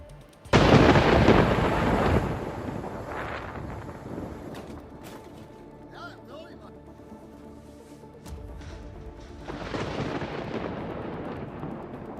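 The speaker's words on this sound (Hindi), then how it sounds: "देश के कई इलाकों में तबाही लाने वाला चक्रवाती तूफान भी आया है।" Thunder from a destructive cyclonic storm sweeping the southern and midwestern United States: a loud, close crash opens, then eases into a long, low rolling rumble before a second swell of thunder near the end.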